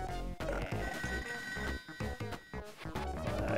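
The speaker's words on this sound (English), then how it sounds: "Oh, there's the phone." A telephone rings in the ToeJam and Earl video game, a steady repeating ring set against busy game music and effects, fairly faint.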